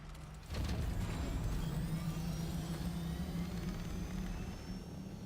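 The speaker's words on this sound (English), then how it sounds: "let me grab my copter and we're out of here" Copter in Dune: Awakening spooling up after a brief quiet start, then a loud sustained engine roar and rotor whine held steady and close for the rest of the clip, with no talking.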